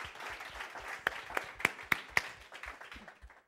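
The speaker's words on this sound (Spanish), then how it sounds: "Dele un fuerte aplauso al Señor." Church congregation giving a short burst of applause at a worship service, a thin patter of claps with a few sharp louder claps standing out, fairly quiet and fading after a few seconds.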